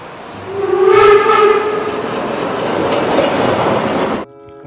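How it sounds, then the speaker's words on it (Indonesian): A loud toy steam-train whistle sounds, then a steady chugging rumble continues before cutting off abruptly. "Kereta uap, teman-teman."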